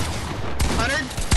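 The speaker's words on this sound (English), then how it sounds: "Why is he shooting at me?" Gunfire in the Fortnite video game, with two quick loud shot bursts over a dense, busy game soundscape in a very short moment.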